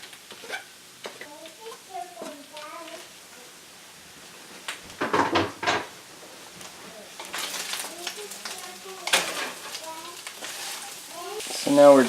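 Thinly sliced carrots cook in a frying pan for a gluten-free, dairy-free lasagna, a soft sizzle under intermittent stirring scrapes and kitchen clatter, with a person speaking over it and a brief louder burst of handling noise.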